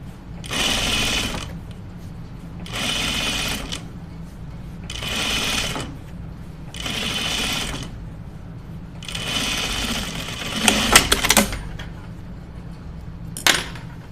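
Sewing machine stitching the sleeve of a dress while running low on bobbin thread: five loud, steady bursts of motor whir a couple of seconds each, separated by short pauses, with light clicks and handling taps near the end.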